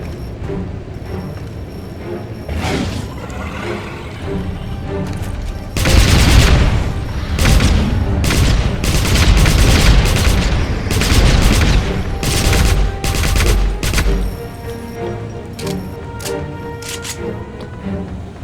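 Dense bursts of gunfire from the 2009 Wolfenstein video game, sustained fusillades and rapid automatic fire with booming impacts, loud and continuous over game music for most of the stretch.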